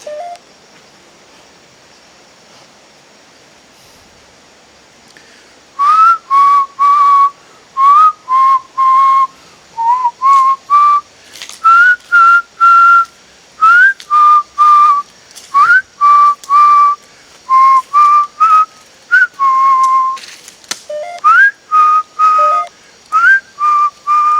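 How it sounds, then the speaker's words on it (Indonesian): A person whistles a wandering tune in short repeated phrases after a few seconds of quiet, clear and close with brief gaps between notes. "Aku ini bersiul."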